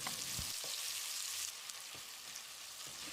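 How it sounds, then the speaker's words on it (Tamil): Sliced onion sautés in coconut oil in a pressure cooker, giving a soft, steady sizzle with a few light stirring knocks. The sound is quiet and close, with no talking. "இதை போட்டு கண்ணாடி பதத்துக்கு வதக்கிடலாம்."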